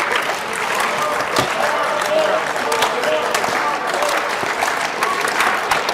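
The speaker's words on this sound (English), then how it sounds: "This is the weakest slow clap ever." A hackathon closing-demo audience claps in a sparse, uneven slow clap that gradually fills in, with scattered voices and cheers mixed through the applause.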